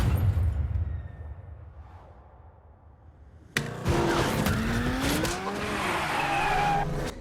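Race car drifting on a film set, with a sudden burst of engine roar and sustained squealing tires after a quieter low rumble, loud and close, sweeping in pitch as the car slides.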